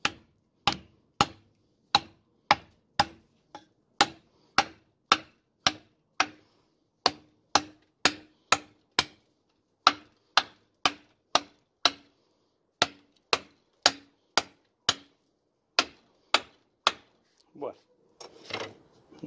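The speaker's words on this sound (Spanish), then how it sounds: "vamos a hacer un poquito de macheteo, a ver cómo va con el macheteo" A machete chops into very old, dry, hard wood in a run of sharp, regular blows, close and loud, each strike a crisp knock with brief pauses between and a few scrapes near the end.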